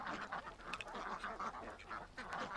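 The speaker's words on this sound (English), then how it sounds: "Geese are water birds." A flock of geese honking and quacking continuously, many overlapping calls close by in a busy, chattering chorus.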